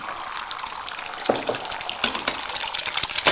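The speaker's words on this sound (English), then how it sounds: "So, pan's hot, here are my eggs." Beaten eggs for an omelette sizzling as they hit a hot pan, a bright crackling hiss with scattered clicks and scraping utensil sounds growing busier toward the end.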